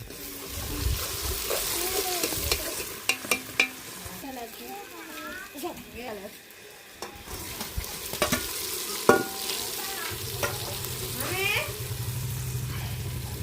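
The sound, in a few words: frying onions, green chilies and masala for curry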